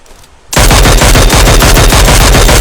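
Rapid automatic gunfire in a video game, a dense, very loud continuous burst that starts abruptly after a brief quiet moment and keeps hammering without pause.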